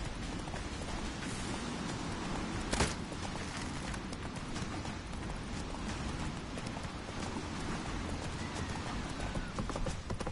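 Horse hooves gallop in The Witcher 3 during a chase, a fast, steady clip-clop running without a break over game background sound, with no talking heard.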